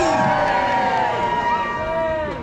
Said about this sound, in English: the crowd cheers with glee